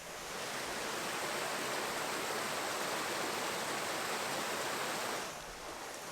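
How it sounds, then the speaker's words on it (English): A small woodland brook on a Lancashire hillside flows in a steady, close rushing wash of water that fades slightly at the end, with no voices. "nice little brook"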